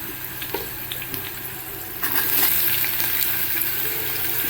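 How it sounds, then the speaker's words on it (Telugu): Onions with chillies frying in oil over a low flame for a Telugu-style prawn curry, a steady close sizzle that grows louder and denser about halfway through, with no talk. "ఆనియన్స్ అన్నవి మంచిగా ఫ్రై అవ్వాలి లో ఫ్లేమ్లో పెట్టి లో ఫ్లేమ్లో పెట్టి మాత్రమే ఫ్రై చేయండి"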